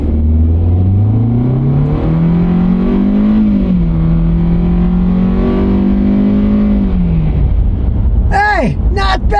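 A new budget car accelerating hard from a stop on a road, its engine note climbing steadily and loud, then easing off, with a brief voice at the end.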